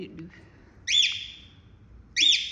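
A cockatiel that is unwell calls twice, each a loud, bright, rising whistled screech about a second apart, close by, with faint chirps and a low murmur of talk in the background.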